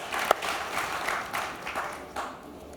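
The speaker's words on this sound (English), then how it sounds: "thank you for your applause." Audience clapping at a startup pitch competition expo, a steady patter of many hands that swells briefly with a sharp clap near the start and then gradually thins out, with no one talking over it.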